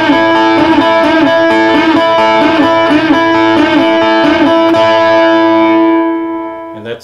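An electric guitar with a distorted, buzzy tone plays a repeating 12-bar blues riff in A at full speed, loud and close with no voice, the final note ringing out and fading.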